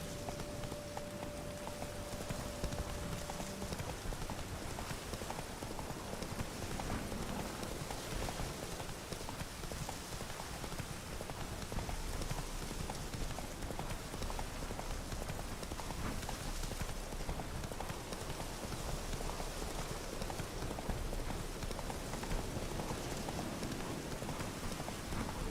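Horse hooves clip-clop steadily in the Witcher 3 video game, a continuous even gait running the whole stretch over a dense, rain-like background wash, moderately loud and close.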